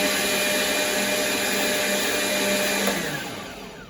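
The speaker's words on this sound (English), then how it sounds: "So right here, you can blend your onion." A blender whirs steadily at high speed, chopping onion into juice, loud and close, then winds down as it switches off.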